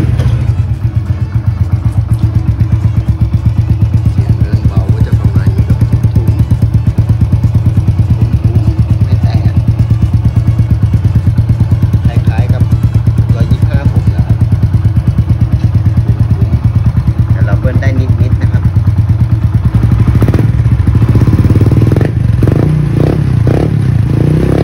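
A motorcycle fitted with a KKD semi-muffled exhaust pipe, half pipe and half grille, idles loudly and steadily close up with a rough, throbbing rumble, then revs harder toward the end.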